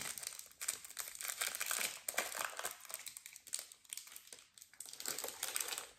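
Crinkling and tearing of a snack wrapper as a caramel-filled milk chocolate biscuit from an 80s retro box is opened, a close, fairly quiet rustle in uneven bursts with no talking.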